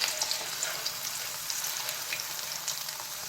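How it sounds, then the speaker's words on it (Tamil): Potato slices for homemade chips frying in hot oil, with a steady, close crackling sizzle of popping bubbles throughout and no talking. "இப்போ எண்ணெய் சூடாயிடுச்சு. நம்ம உருளைக்கிழங்க எடுத்து போடலாம்."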